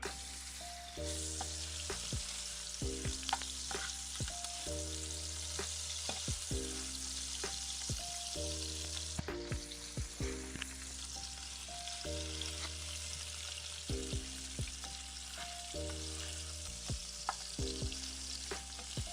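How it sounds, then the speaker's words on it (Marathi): Ginger, garlic, onion and green chillies fry in hot oil, a quiet continuous sizzle with repeated stirring scrapes and taps of a spoon against the pan, accompanied by steady background music. "अद्रक लसूण कांदा हिरव्या मिरच्या खमंग अशा भाजून घेऊ"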